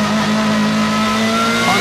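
A BMW M3 GTR race car engine on the Nordschleife accelerates on the gas with a loud, steady, high-pitched drone that fills the whole moment.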